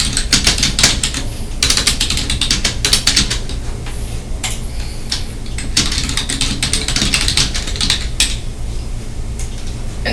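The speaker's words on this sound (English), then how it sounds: "Here I'll just type in a brief description." Rapid keystrokes clatter on a computer keyboard while a brief description is typed into a customer service portal, close and fairly loud, with short pauses between bursts and no talking.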